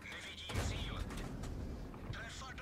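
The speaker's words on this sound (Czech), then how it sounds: "Konečně prošla první rána," A Type 3 Chi-Nu Kai tank cannon fires in World of Tanks with a heavy boom and rumbling tail, followed by a second, softer shot, while someone talks over it.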